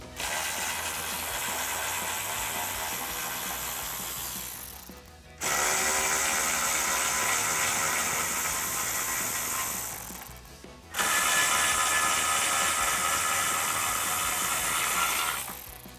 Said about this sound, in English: We're going to be using a 8mm socket and a ratchet.